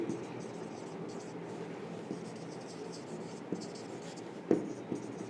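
Chalk or marker scratching on a board during a physics lecture on the photoelectric effect: a steady, faint scraping with a few sharper taps, heard under the teacher's voice in a lightly reverberant room.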